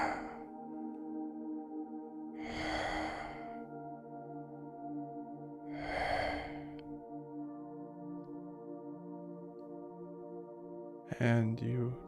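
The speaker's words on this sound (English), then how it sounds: "you notice a sound, like a deep, heavy, and slow breathing" Deep, heavy, slow breathing of a sleeping beast in a cave: two long, drawn-out breaths a few seconds apart swell over a sustained, droning musical tone, with a brief rustle near the end.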